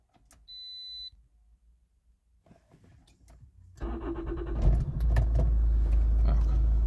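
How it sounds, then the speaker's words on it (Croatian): A Toyota RAV4 diesel starts inside the cabin: a short chime, then a few soft clicks and a key turning before the engine cranks and catches, settling into a steady, loud, close diesel idle. "Evo, vozilo ćemo sad pokrenuti."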